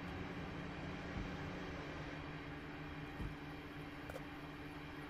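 A Class 323 electric train on the Cross City Line in Train Simulator 2022 runs with a steady low rumble and hum, with faint thumps as it moves past another train.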